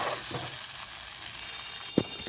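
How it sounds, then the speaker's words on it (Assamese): Taro leaf curry with stewing greens being stirred in a pan on an Assamese kitchen stove, a low steady sizzle of steam with soft scraping of the spoon and a louder clack of utensil against the pan near the end. "এনেকৈ লৰাই থাকি ভাপত সেমেকি যাব দিম।"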